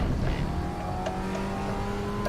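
An Audi TT Cup race car accelerates hard out of a corner at Portimao, a steady loud engine drone with a rising whine and no voices.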